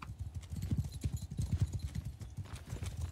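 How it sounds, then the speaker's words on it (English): Horses gallop in the Mount & Blade 2: Bannerlord battle, a rapid, close clatter of hooves on the ground in steady overlapping beats, with a faint whinny. "Because they got horses, that's why."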